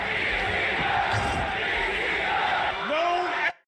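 Wrestling crowd in Philadelphia chanting, a dense roar of many voices held loud and steady for over three seconds before cutting off abruptly.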